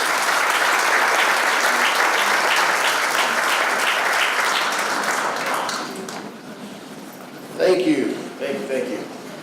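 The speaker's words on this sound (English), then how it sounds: "Please give him a round of applause." Audience applause at a mayor's workforce luncheon for a Department of Rehabilitation speaker, a loud steady sustained clapping that fades after about six seconds, followed by brief talk.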